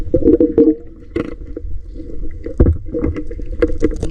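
A small wooden outrigger boat knocks and sloshes on the water nearby, with irregular creaks, bumps and splashes of moderate loudness.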